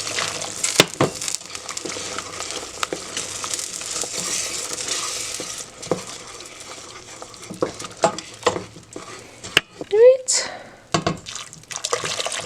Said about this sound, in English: I'm just going to toast my spices slightly before I start adding in my lobster stock.